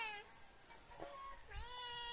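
Several cats meow close by in a convent setting, with two or three drawn-out, rising cries heard over low background noise.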